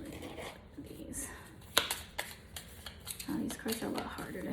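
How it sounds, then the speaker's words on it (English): Tarot cards riffle and flutter in quick, soft bursts close up, with a few crisp snaps between shuffles. "cards are a lot harder to shuffle"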